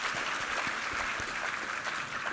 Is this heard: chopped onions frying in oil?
no